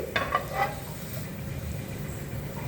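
Light crackling and sizzling of urad dal and tempering spices frying in hot oil, with a few sharper pops at the start fading into a steady hiss.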